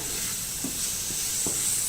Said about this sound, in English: So we are going to stir our stuffing a little bit.